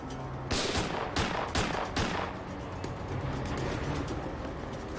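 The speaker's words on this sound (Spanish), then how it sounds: "hombre continuó disparando al oficial Rogers" Burst of gunfire as a man keeps shooting at a police officer during a deadly domestic dispute: several sharp, loud shots in quick succession in the first two seconds, then a lingering noisy tail with no further clear reports.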